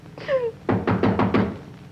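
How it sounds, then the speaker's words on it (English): Four firm knocks on a door in an even rhythm, close and clear, preceded by a short whistling or squeaky sound. "Hark! Who knocks?"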